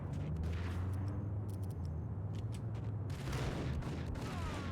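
Grenade explosions and gunfire in Max Payne, a dense, continuous roar of blasts and shots at steady high loudness with no clear gaps, a heavier burst near the end.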